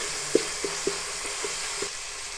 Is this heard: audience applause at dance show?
no